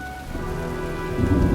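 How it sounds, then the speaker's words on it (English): A steady downpour hisses with a low rumble of thunder in the thunderstorm of the video game Heavy Rain, with faint tonal music underneath and no voices. "Well, looks like a storm's coming."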